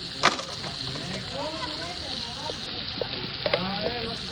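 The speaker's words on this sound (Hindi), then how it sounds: "अब मैं अपने मसाले को अच्छी तरीके से भूनूंगी" Spices sizzle and fry in a pan for a chili-laced aloo matar anday dish, with a steady crackling hiss and a few sharp stirring scrapes near the start and around the three-and-a-half-second mark.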